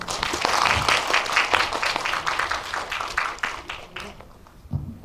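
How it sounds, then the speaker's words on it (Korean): A film screening audience at an indie guest talk claps warmly, a dense patter of many hands that thins and fades near the end. "관객분들의 박수 소리가 뜨거워서"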